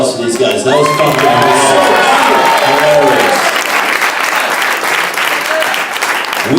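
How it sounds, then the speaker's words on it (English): Stand-up comedy club audience bursts into sustained applause. Cheering and shouting at the start give way to dense, steady clapping. "How about a round of applause for these guys?"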